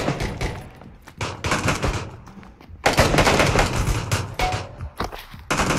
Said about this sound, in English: No, he's shooting me.